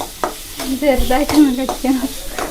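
Onions sautéing lightly in a pan, a sizzle broken by repeated scraping stirs of a spatula in quick bursts, close and fairly loud, with no speech.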